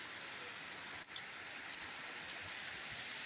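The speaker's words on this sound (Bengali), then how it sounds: "বৃষ্টি প্রচুর হচ্ছে। রাস্তাঘাট তলিয়ে যাচ্ছে, খুব প্রচুর বৃষ্টি।" Heavy, unbroken rain pours down on streets that are flooding, a dense, even hiss with one brief sharp knock early on and no voices.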